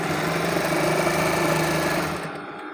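A sewing machine runs steadily while stitching a piped kameez, a continuous close mechanical whir that eases off and drops quieter near the end.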